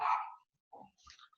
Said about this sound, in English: so my dog got a little excited about that